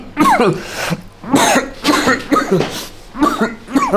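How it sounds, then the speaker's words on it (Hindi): Repeated harsh tuberculosis coughing in several bursts, close and loud, with throat-clearing sounds between them. "खांसी?"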